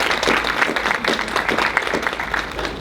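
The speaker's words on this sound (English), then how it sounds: "Let's give him a round of applause" An audience at a diversity summit keynote gives a round of applause, a fairly thin, uneven patter of clapping hands heard close and moderately loud for a few seconds, with no speech over it.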